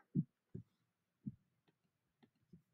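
Heartbeat in the Henry Stickmin video game: faint low thumps in loose lub-dub pairs, a strong beat every half second or so at first, then softer, wider-spaced beats fading out, heard alone.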